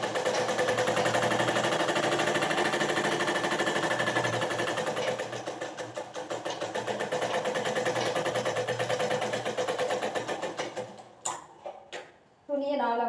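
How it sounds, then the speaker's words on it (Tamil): Sewing machine stitches the side seam of a baby frock in one steady, loud, continuous run for about eleven seconds, then stops, leaving brief handling clicks and a short burst of sound at the end. "ஃபர்ஸ்ட் லாஸ்ட் ஸ்ட்ராங் தையல் போட்டு 1/2 இன்ச் அளவுக்கு சைடு ஜாயின் பண்ணுவோம்"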